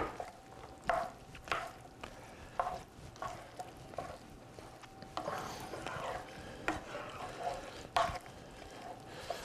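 Diced tomatoes are stirred into a stuffed pepper filling, giving soft, irregular scraping and wet mixing sounds with light clinks, fairly quiet and without talk.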